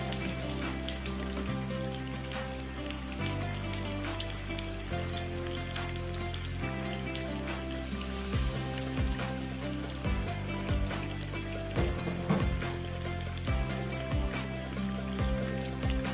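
Risol kampung frying in hot oil, a steady sizzle and bubbling crackle throughout, with soft clinks and no speech.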